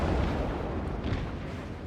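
A naval shell striking a warship in World of Warships, heard as a deep, rumbling explosion that rolls on through the whole short moment without a break.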